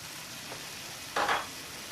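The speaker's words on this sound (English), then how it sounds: "this just goes until the ground beef is browned" Ground beef browning in a pan, a soft steady sizzling hiss with a brief louder burst of crackle midway, close and alone.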